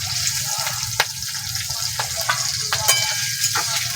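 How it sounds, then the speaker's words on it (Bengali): Chopped onion hits hot oil for Bengali Pabda fish tel jhal with eggplant, giving a steady close sizzle with a few sharp crackles and spoon scrapes through the whole stretch, no voices. "একটা মাঝারি ভাবে পেঁয়াজ কুচি কুচি করে কেটে রেখে দিয়েছি, দিয়ে দেবো"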